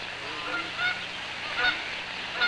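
A goose honking in a 1955 zoo broadcast, three separate honks spaced about a second apart over a faint background hiss, with no talking.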